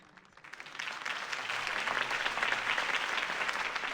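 A crowd at a campaign rally for Harvey Dent in the video game Batman: The Telltale Series bursts into applause, rising quickly from quiet into a loud, dense, sustained clapping that holds to the end.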